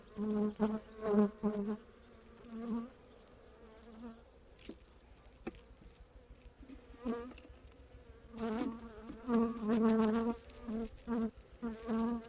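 Honey bees buzz steadily around a hive, droning near and far in swelling waves with short quieter gaps between.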